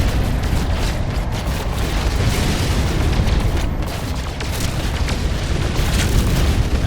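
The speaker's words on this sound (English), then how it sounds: "And we're just shooting these rocks" Rocks being shot and blasted to mine gold in the space video game No Man's Sky, a continuous loud roar of booming blasts and rumbling bursts with no talk.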